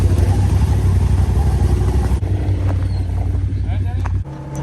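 The engine of a tuned Polaris RZR side-by-side, running with its check engine light on, drones loud and steady with a low idle-like rumble, briefly cut off near the end, while people talk over it.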